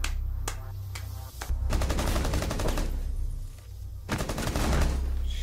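Pistol shots crack out in the Rainbow Six video game, loud rapid volleys fired in several bursts with short pauses between.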